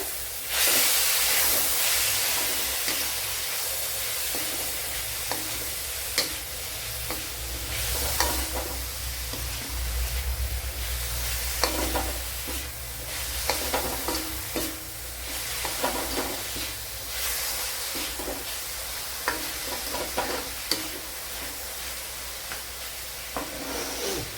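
Tomato and drumstick pieces sizzling in a pan for beetroot curry, a steady frying hiss with intermittent stirring scrapes throughout, close and fairly quiet, with no talk.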